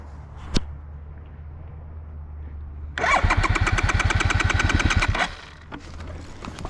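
A TRS XTrack trial motorcycle starts in the cold on a snowy ride: after a quiet stretch with a single click, the starter cranks and the engine catches into a loud, rapid, close putter for about two seconds before dropping back.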